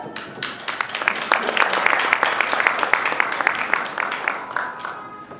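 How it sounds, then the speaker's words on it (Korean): Congratulatory applause at a Korean consumer brand award ceremony, a crowd clapping briskly with distinct individual claps, swelling in the middle and easing off over about five seconds. "축하의 박수 부탁드립니다"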